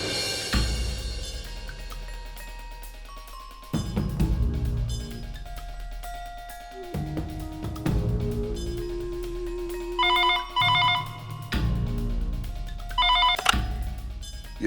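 A phone rings repeatedly on an outgoing call in bursts with gaps between them, mixed with a dramatic musical score; no one speaks.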